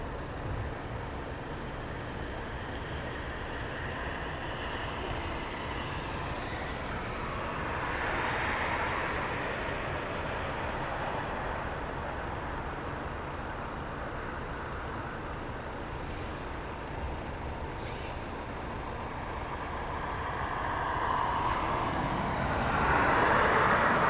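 A Eurofighter Typhoon jet taxis at RAF Coningsby in fog, a steady distant turbine roar and rumble that swells gently at times and grows louder toward the end.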